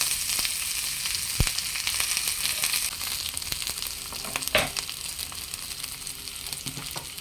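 Finely chopped onions sautéing in a pan for a vegetable kurma, a soft continuous sizzle with a couple of sharp stirring knocks, close and fairly quiet.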